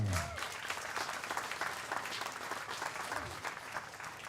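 A crowd applauds for Irish fighter Laura Vogelsang at an ABS Pro 7 event, with steady, dense clapping and cheering that holds loud and even throughout.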